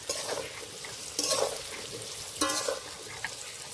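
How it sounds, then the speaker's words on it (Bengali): Potatoes frying in a pan with turmeric powder give a soft, close sizzle with a few louder scraping stirs of the spatula. "অল্প একটু হলুদ গুঁড়ো এতে করে আলুর কালারটা খুব সুন্দর আসবে ভালো করে ভেজে নেব"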